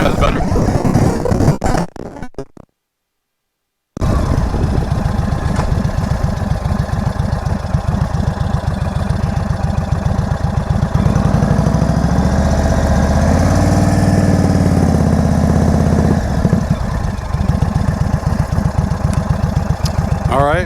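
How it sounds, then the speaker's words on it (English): A motorcycle engine idles and revs during riding practice, rising and falling steadily for about twenty seconds and cut by a short dropout early on, with someone talking over it throughout. "get the RPMs up, clutch out, keep holding, lift up the left foot and go"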